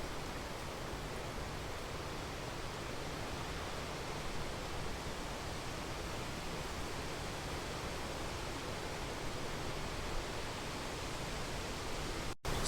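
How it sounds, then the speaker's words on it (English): A large waterfall in Switzerland, cascading with heavy spray during rain, gives a steady, uniform roar of rushing water that stays even and dense from start to finish, faint in level and without any voices. "The sheer force and magnificence of the falls become palpable as raindrops merge with the cascading spray"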